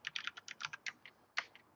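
Quiet, close keystrokes on a computer keyboard tap out a quick irregular run of about a dozen clicks with one brief pause.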